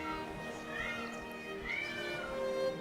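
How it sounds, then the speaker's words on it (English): A cat that wants to go outside gives drawn-out, rising meows at a distance beneath steady background music or game sound. The cries are faint and partly masked. "it's the cat that wants to go outside"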